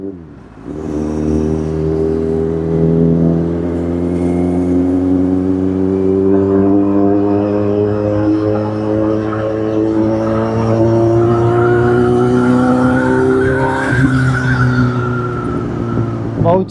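A car exhaust revs in a mall parking area, one long loud rising and falling drone that holds steady before dropping near the end, with voices in the background.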